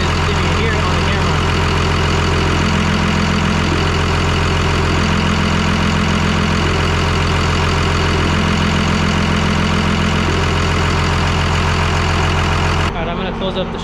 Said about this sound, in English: You can hear the intake noise pretty loud just at idle.